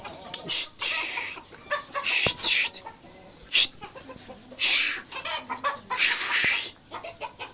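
A hen clucks repeatedly nearby, a series of short throaty calls with brief gaps, fairly loud and clear.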